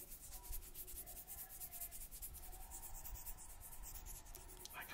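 Close, continuous scratchy rubbing right against the microphone, a grainy rustle like grains being scattered, with no talking.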